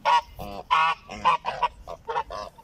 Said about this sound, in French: Les oies du Capitole.